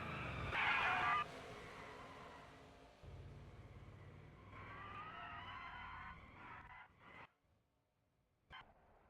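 A race car in the NR2003 simulator spins out alone at a superspeedway, its engine roar giving way to a sharp tire squeal and a long wavering skid that fades as the car slows, then a brief final thump.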